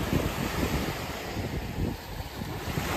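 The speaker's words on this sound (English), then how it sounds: "So let's just focus on the waves for now." Ocean waves wash onto the beach at Mission Bay, Auckland, a continuous rumbling surf with swelling surges, mixed with gusty wind buffeting the microphone and no voices.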